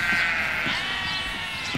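Sheep on a small dairy farm in Mecklenburg-Vorpommern give a drawn-out, wavering bleat close by, with quieter bleats following and a low background rumble.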